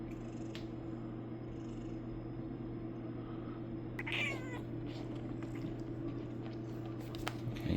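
A pet cat makes soft purring and meowing sounds close to the microphone indoors. The sounds sit over a steady low hum, and a brief louder call comes near the middle.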